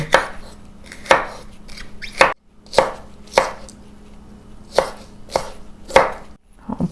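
A knife slicing aromatics for a spicy chicken feet salad, about ten crisp, evenly spaced chops on a cutting board, close and loud with quiet gaps between strikes and no talk.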